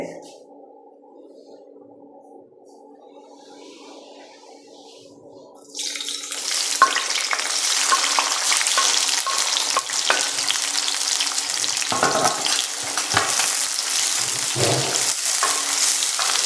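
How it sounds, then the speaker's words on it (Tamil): Small shallots fry in sesame oil for a country chicken fry. After several seconds of near quiet, a loud, continuous sizzle starts abruptly and carries on close by, with occasional stirring clatter. "நல்லெண்ணெய் போட்டுட்டு முதல்ல இதுக்கு வந்து சின்ன வெங்காயம் இருக்குது"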